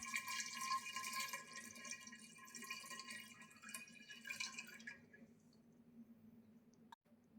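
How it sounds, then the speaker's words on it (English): Descaling solution is poured into the tank of a Karcher SG 4/4 steam cleaner, a faint trickling pour for about five seconds that stops abruptly, leaving near silence and one small knock. "Pour the prepared descaling solution into the device's tank."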